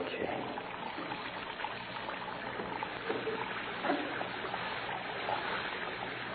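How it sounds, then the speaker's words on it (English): Water runs steadily from a basin tap into a plugged sink in an old-time radio crime drama set in a prison cell, a continuous hissing trickle with faint voices murmuring underneath. "Plug up your basin and let the water run on the floor."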